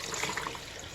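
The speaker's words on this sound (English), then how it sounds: "Going to add some water" Water poured into a pot of chicken light soup with garden eggs and tomatoes, a short close splashing trickle with no voices.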